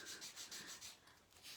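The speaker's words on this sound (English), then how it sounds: "I'm going to sand it so it really blends in with the black" Sanding a painted wood sign for spring crafting, roughing up black paint: a close, steady back-and-forth rasping scrape in quick rhythmic strokes, alone with no talking.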